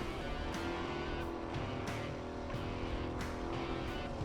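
A Nova drag car does a burnout to heat its tires before a Super Pro round, a steady loud engine roar and tire noise with faint regular pulses throughout.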